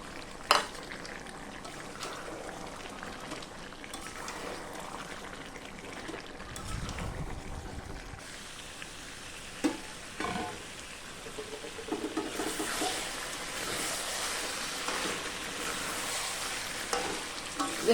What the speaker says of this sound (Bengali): এইরকম বারে বারে ঢাকা দিয়ে খুলে আমি কষতে থাকবো।